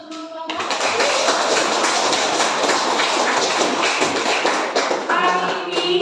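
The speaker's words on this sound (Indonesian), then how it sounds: "kasih aplaus untuk seluruh kelompok" Classroom applause for all the student groups, a dense crackling burst of many hands clapping that starts abruptly and holds steady and loud for several seconds.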